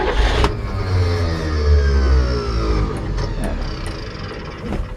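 1947 Chevrolet 3100 pickup with an electric fuel pump, its engine rumbling low and revving as it pulls away, a heavy close-up drone with rising tones and a few light clicks near the end.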